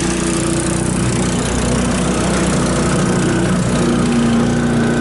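A salvaged 150cc GY6 engine on an off-road go-kart runs steadily with a loud, constant buzzing drone and a low rumble throughout, with no talk over it.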